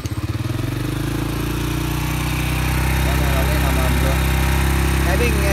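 A motorcycle engine starts with a few quick sputtering pulses, then settles into a loud, steady idle that hums on without a break.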